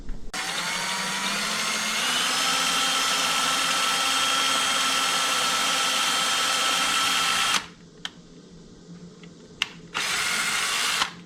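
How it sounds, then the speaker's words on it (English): A power drill drilling into a panel whines steadily for several seconds at close range, stops, gives a couple of brief clicks, then revs up again in a short burst. "I can position the panel and you drill it"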